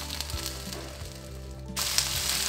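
Okra (bhindi) fries in oil in a pan with a continuous close sizzle over a low hum. The sizzle swells louder near the end.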